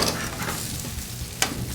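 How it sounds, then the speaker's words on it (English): Spinach, mushrooms and onion are tossed in a hot pan, giving a soft continuous sizzle with a sharper scrape or clatter of the toss near the end, close and moderately quiet. "Give it a couple of quick tosses. Mix it all together."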